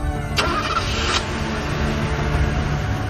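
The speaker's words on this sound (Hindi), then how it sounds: "तू गाड़ी स्टार्ट कर।" A car engine cranks with a short starter whine, then catches and settles into a steady idle that carries on loud and close, with no talk.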